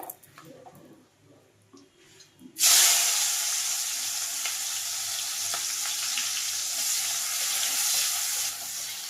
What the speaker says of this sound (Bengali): ওই মাছ ভাজার তেলের মধ্যে এবার আমি দিয়ে দেবো পেঁয়াজ কুচি।